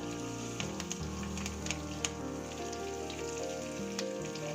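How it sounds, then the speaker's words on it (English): Bay leaves, cinnamon sticks and curry leaves fry in hot oil in a pan, a quiet steady sizzle sprinkled with sharp pops and crackles, close and without talk. "Now heat oil in a pan, add 2 bay leaves, 2 cinnamon sticks, few curry leaves"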